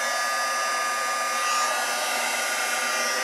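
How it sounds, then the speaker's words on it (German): A hair dryer blows steadily over a handmade card made with a bleaching technique, a loud, even, continuous whoosh with no breaks and no voices. "Also immer schön weitergehen mit dem Föhn."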